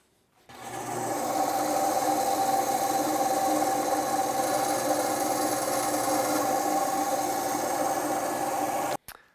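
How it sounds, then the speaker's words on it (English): A bandsaw cuts a tip overlay for a primitive wooden bow, starting up abruptly and running as a steady, loud buzzing rasp for about eight seconds before cutting off sharply. "Now we can cut this thing with the bandsaw and glue it on the bow"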